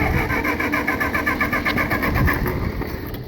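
A Massey Ferguson MF65 tractor engine runs in neutral with a steady, rapid, throbbing chug that stays loud and close throughout, with a slight dip near the end.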